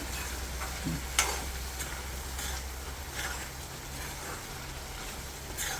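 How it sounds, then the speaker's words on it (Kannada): Chickpea gravy cooking down in a pan with no onion or garlic, a steady close bubbling sizzle with soft ticks and a couple of sharper spoon taps, continuous throughout. "ಚೆನ್ನಾಗಿ ಕುದೀತಾ ಇದೆ"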